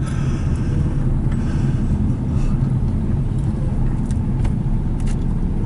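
Car driving along a road in Russia, with loud, steady interior engine and road rumble that holds even throughout, heavy low drone and no talk.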